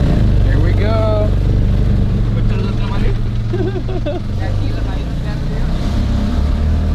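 A tuk-tuk drives along a road in Sri Lanka, its small engine droning loud and steady up close with wind rush, while people talk over it.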